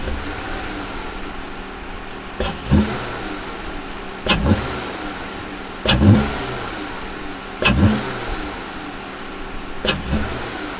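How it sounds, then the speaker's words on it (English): A V6 car engine revs through its intake in five sharp blips spaced about two seconds apart, each rising quickly and dropping back to a rough idle, loud and close. "let me set up so y'all can hear my intake"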